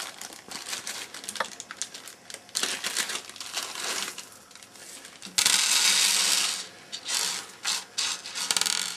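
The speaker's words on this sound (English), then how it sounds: "I'll sort some screws out from the packet" A plastic packet of computer screws rattles and crinkles up close while the small metal screws are sorted, with continuous rustling, clinking and louder crackling handling partway through.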